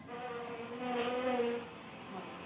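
Simulated tinnitus buzz resembling a bee, a steady droning hum with layered harmonic tones that swells slightly in the middle, heard alone without talk.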